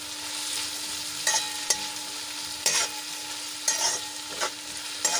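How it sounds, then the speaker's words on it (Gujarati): Masala gravy with onion, potato and tomato is stirred and sautéed in a pan, with a steady sizzle under several sharp spoon scrapes spaced through the clip, fairly close and with no talk. "થોડાક હલાવીને આ રીતે આપણે મસાલાને સાંતળી લઈશું."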